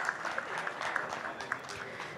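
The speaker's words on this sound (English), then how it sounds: "please join me in welcoming them all with a huge round of applause" Round of applause from the audience at a national management convention valedictory session, steady clapping throughout at moderate level, somewhat distant.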